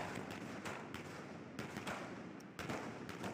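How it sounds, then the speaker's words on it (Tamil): Fireworks burst at a Chandrayaan 3 landing celebration, with distant, fairly faint booms and crackles repeating at irregular intervals over a continuous outdoor rumble. "வானில் ஏவப்பட்ட பட்டாசுகள் வர்ண ஜானங்களுடன் வெடித்துச் சிதறின"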